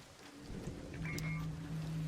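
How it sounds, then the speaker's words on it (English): Soft, distant rainfall in the video game Arc Raiders, a faint steady patter mixed with low rumbling ambience and a few brief tonal game sounds over about two seconds. "The rain in this game is very nice."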